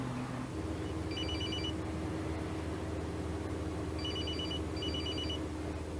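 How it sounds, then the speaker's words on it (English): A mobile phone rings on a bus: short bursts of a high electronic trill repeat three times over the steady low rumble and hum of the moving vehicle. "Was anybody annoyed by the phone ringing and someone suddenly start talking on the bus?"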